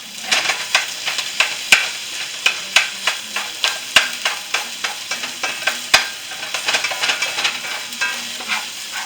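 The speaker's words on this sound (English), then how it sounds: "we got some ground beef cooking over here now. Let's kind of poke it around." Ground beef browning in a pan for shepherd's pie, prodded and stirred with a utensil, giving a steady close sizzle broken by repeated sharp scraping taps in an uneven rhythm, with no voices.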